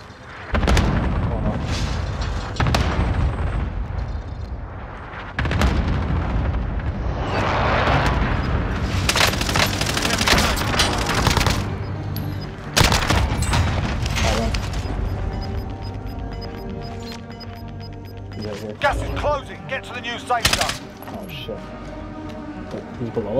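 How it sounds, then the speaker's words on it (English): An allied cluster strike in Call of Duty Warzone's Rebirth Island duos mode sets off a series of loud, overlapping booms and rumbling blasts that continue for many seconds, with players talking over them. "Allied cluster strike inbound."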